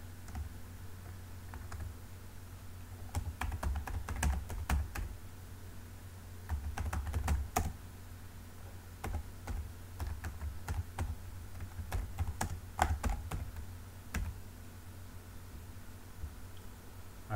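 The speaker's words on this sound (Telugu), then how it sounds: "ఇక్కడ నా అడ్రస్ టైప్ చేస్తున్నాను." A computer keyboard being typed on to enter an address, with steady bursts of close, crisp key clicks and short pauses throughout, over a low constant hum and no talking.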